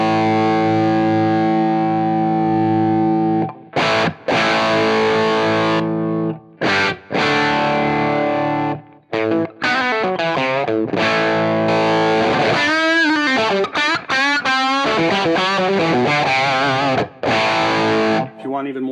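Heavily distorted electric guitar through an LPD Sixty8 Stacked high-gain pedal plays chords and bends with thick, saturated sustain, loud and close, broken by brief pauses between phrases.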